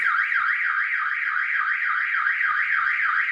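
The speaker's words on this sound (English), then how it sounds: "let alone having a fucking alarm go off while I'm grinding" A car alarm blares nearby in a warbling, rising-and-falling siren that repeats steadily throughout, loud and unbroken, with no talk over it.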